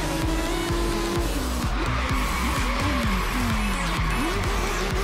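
In the Forza Horizon 3 racing game, an NSX car drifts with loud, repeated tire squeals that rise and fall in short swoops over a roaring engine, continuous and close.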